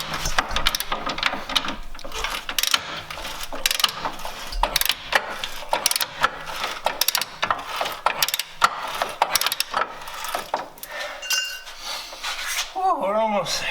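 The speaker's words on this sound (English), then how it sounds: "So trying to get the control arm bolt off." Mechanical clicking and ratcheting from a hand tool on a corroded front control arm bolt of a New Edge Mustang, a busy, steady run of metallic clacks and knocks, fairly close.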